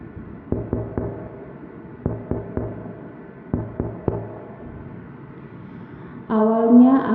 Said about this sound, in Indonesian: Jam 2 pagi aku kebangun karena dengar suara ketukan 3 kali.